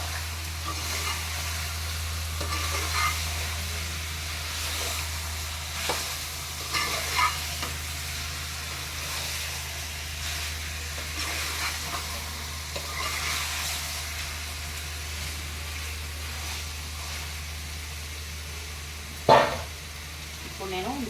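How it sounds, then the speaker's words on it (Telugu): Fish pieces being stirred into a bubbling curry with okra: a continuous close sizzle with occasional soft scrapes and stirs over about twenty seconds, a louder clunk near the end, and a low steady hum underneath. "ఇలా ఉన్నప్పుడు మనం చాప ముక్కలు కలిపేసుకోవచ్చండి"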